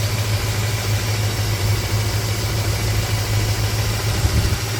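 A 1964 Ford Thunderbird convertible with a rebuilt 390 V8 runs steadily, its low engine rumble and drone continuous and close, with no talk.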